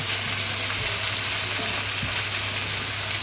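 Vegetables with salt, turmeric, cumin powder and chilli powder fry in a pan and are stirred for a Bengali rohu fish curry with ridge gourd and potato. A steady, close sizzle runs throughout, with a few soft scrapes from the stirring.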